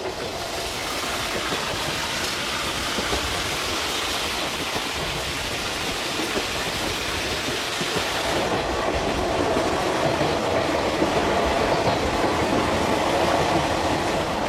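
Fourteen-car passenger train rolling along rails in southern China, a steady dense rumble with rhythmic clickety-clack and hissing air, loud and continuous throughout, growing slightly brighter partway through.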